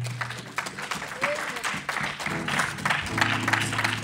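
Church congregation applauding to acclaim Jesus, a dense, sustained wash of clapping from a crowd in a hall, steady throughout with some voices mixed in under it.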